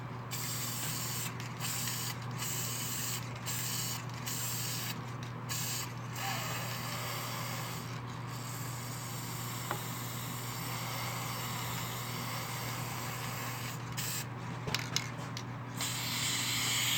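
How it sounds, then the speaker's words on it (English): Short hissing bursts of sealant sprayed onto an aspen wood bowl, about a dozen irregular spurts over a faint steady background hum, close and fairly quiet with no talk. "I'm going to spray it at this angle here."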